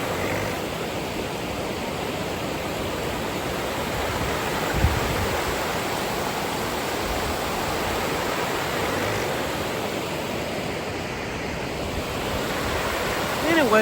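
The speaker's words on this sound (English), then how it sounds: "This is beautiful water." Water flows and waves wash in a steady, continuous rush of broadband noise that holds at an even level throughout, with no voices over it.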